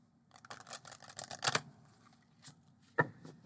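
Quick papery riffling bursts of a stiff, gloss-finish oracle card deck being shuffled, a dense flurry followed by a few sharper separate snaps, close up and fairly quiet.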